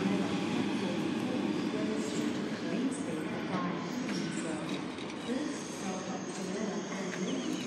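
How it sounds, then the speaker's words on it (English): A Sydney B set train runs a city circle service around Sydenham, its steady rumble filling the clip with constant track and carriage noise and no pauses. "There's a train up there as a B set for a city circle service"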